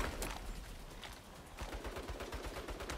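Turret fire in the game Saints Row, rapid rattling bursts of automatic gunfire at close range, with a brief lull before a second dense, rhythmic volley.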